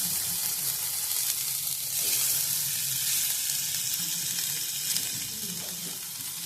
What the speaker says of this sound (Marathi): आता कांदा भाजून घेऊया.